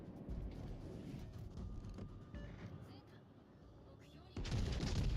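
Warship main guns fire in World of Warships Legends as muffled booms and rumbling blasts sit over a low, busy battle backdrop, and a heavier, louder burst lands near the end.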